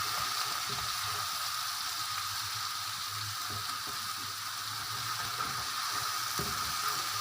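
Chicken chow mein ingredients browning on high flame, a dense continuous sizzle with faint stirring underneath, steady and fairly loud, no talking.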